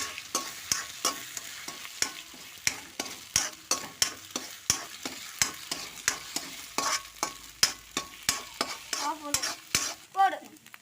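A spatula scrapes and stirs fried rice in a frying pan over a cooking fire, with sharp, regular strokes roughly every half second over a soft background sizzle, close and clear with no talking.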